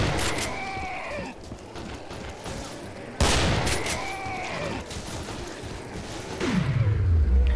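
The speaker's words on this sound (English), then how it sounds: "Starting to think the lever arch is the most overpowered gun in this game" Lever-action rifle gunfire in the Killing Floor video game, loud repeated cracking shots in two bursts with ringing tails, followed by a deep rumbling blast near the end.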